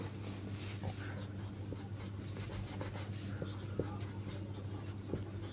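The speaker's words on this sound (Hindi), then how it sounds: "यहाँ पे लिख देते हैं" Chalk-like scratching and tapping strokes come from writing on a board during a class 10 physics lesson on reflection and refraction of light. The strokes are faint and irregular over a steady low room hum.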